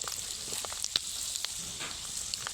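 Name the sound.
peanuts crackling while frying in oil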